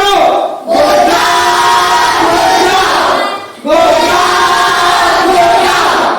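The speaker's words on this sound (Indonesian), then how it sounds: "tepuk tangan untuk kelompok 1" A classroom group claps and cheers loudly in two dense bursts, the first brief and the second longer, separated by a short lull.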